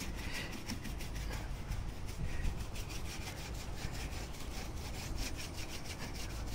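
Edges of copper ship hull plating being worked down to remove excess, a steady close abrasive rasping with rapid repeated strokes running continuously.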